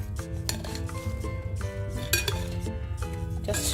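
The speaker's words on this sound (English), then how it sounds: "just mix your salad up" Kachumbari salad with avocado gets tossed in a bowl, producing steady soft clinks and scrapes of a utensil against the dish, close and fairly quiet, with no talking.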